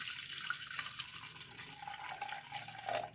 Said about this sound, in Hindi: तब तक हमें दाल को धोते रहना है